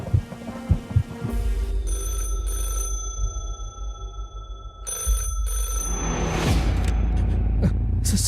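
A telephone rings in short electronic bursts, two separated trills over a low, rumbling background, with a rising swell of noise closing out the moment.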